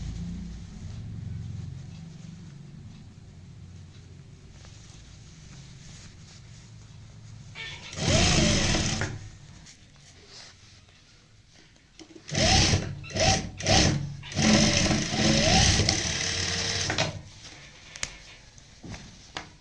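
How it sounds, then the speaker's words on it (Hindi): A sewing machine stitches a lace-trimmed sleeve in two bursts, one short run and then a longer run with brief pauses, loud and close above a low room hum. "यहाँ पे हमने ऊपर से सिलाई लगा ली है।"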